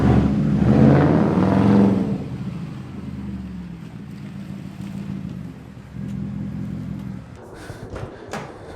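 Mercedes C63 AMG pulling away, a loud engine burst and rev that fades within two seconds into a low, steady rumble moving off, with a brief swell later and faint clatter at the end.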